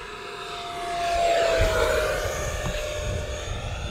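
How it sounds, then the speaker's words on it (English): An FMS Futura 64mm EDF RC jet on a 4S setup makes a full-throttle pass down a runway, its ducted-fan whine swelling as it approaches, peaking overhead, then fading off with a slight pitch drop. "let's do a full throttle pass down the runway so you guys can see this thing and hear it"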